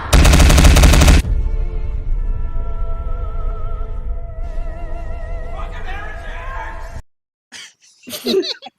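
A loud, dense burst of rapid gunfire blasts for about a second at the start of a Warhammer-style fantasy battle, then breaks off into ongoing talking and a few scattered sounds.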